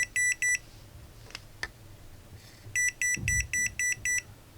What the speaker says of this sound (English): The alarm is beeping.